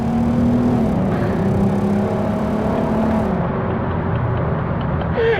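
A Volkswagen R32 with a Milltek resonator-delete exhaust revs inside a tunnel, a loud booming engine roar that rises and falls, echoing off the walls with a continuous rumbling whir.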